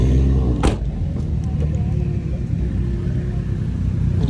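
A steady low rumble of city-centre street traffic at night in Toulouse, with cars passing close, a brief sharp clack near the start, and a continuous engine drone filling the background.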